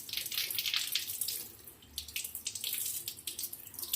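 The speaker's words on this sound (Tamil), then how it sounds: "இந்த மாதிரி பைப்பை தலைகீழாக வச்சு நீங்கள் அலசுங்க" A kitchen tap runs steadily while glass oil bottle caps are rinsed under the stream, giving a close, continuous splashing hiss that surges and dips as the caps move through the water.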